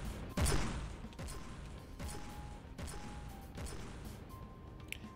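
Turrets firing in the video game From The Depths, a run of sharp, loud shots. One heavy blast leads, then lighter bursts follow at irregular intervals over a steady mechanical background.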